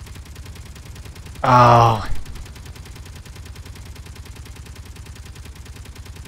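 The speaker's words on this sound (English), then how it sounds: "Yes, you are shooting at my station." A short burst of gunfire in the space game Space Engineers, aimed at a station, lasting under a second over a steady low hum, followed by a brief exclamation from a voice.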